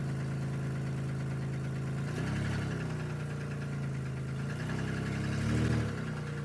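A 2002 Chevy Malibu engine idles steadily after starting despite sitting for four months, a close, even rumble with a couple of brief surges in revs.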